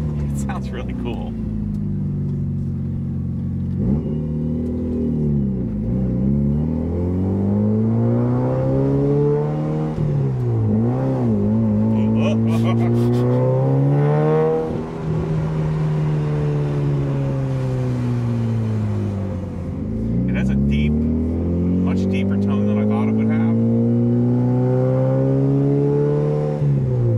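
A Mitsubishi Evo 8 with an aftermarket exhaust driven slowly around the block during warm-up, engine droning steadily with repeated rises and falls in pitch as it revs and shifts. A person talks over it.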